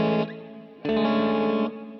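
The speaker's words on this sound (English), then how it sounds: "I want to do maybe a Hall reverb." Electric guitar played through a Joyo effects unit set to hall reverb, two strummed chords ringing out with a long, washy tail, the second chord louder and sustained before fading into the reverb.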